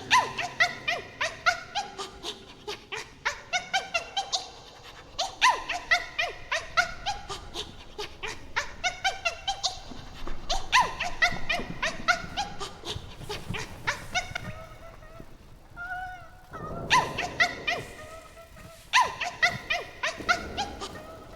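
In Hollow Knight: Silksong, a small creature whimpers and yelps like a little dog in a rapid, repetitive series of high cries over roughly twenty seconds, with a few brief pauses.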